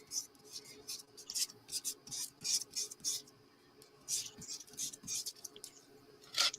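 Hand sanding with a sheet of sandpaper on a mixed media assemblage piece: short, dry, scratchy rubbing strokes repeat in an uneven rhythm, close and fairly soft, with no talking.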